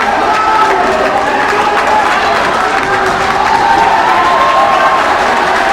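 A basketball crowd at a boys' high school game roars and yells steadily for a technical foul, a dense continuous wall of voices and cheering filling the gym without letup.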